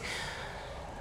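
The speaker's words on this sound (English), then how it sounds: "It's breathing." A creature in Honkai: Star Rail draws one short, soft, airy breath, snort-like and close, with nothing else around it.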